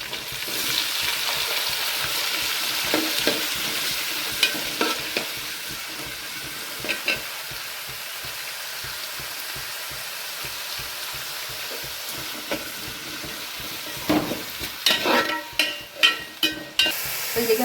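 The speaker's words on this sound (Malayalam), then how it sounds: "ഉള്ളി ഇട്ട് കൊടുക്കാം" Onion sizzles in hot oil in a pan for crab curry, a steady close frying hiss under repeated spoon taps and stirring scrapes that grow busier and louder toward the end.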